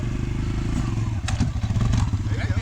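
A brand-new Kawasaki KLX140 dirt bike is ridden close by. Its engine holds a steady, throbbing drone, with a few clattering thumps as it rolls over uneven ground.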